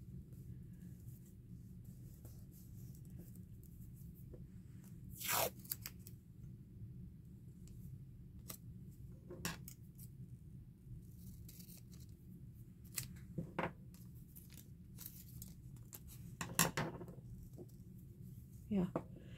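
Scissors snip through paper for a file folder journal in a few separate, brief cuts spread over a quiet stretch, close and fairly soft, with no talking over them.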